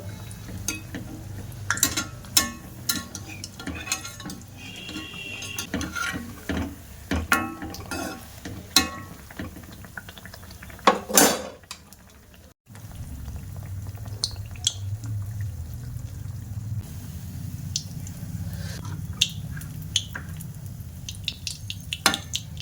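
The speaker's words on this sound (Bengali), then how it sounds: "তেলের মধ্যে আমি এবার 1 চামচ ব্যাটারটা দিয়ে দেব, দিয়ে পিঠা বানিয়ে নেব" Spoonfuls of orange-flavoured malpua batter sizzle in hot oil at close range. A steady frying hiss runs underneath scattered clinks and stirring, with no talking.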